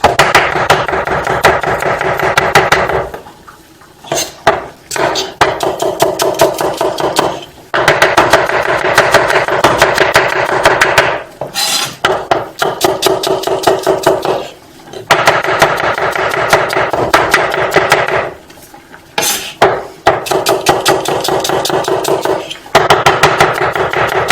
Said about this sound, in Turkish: Soğanlarımızı da ince ince doğrayacağız.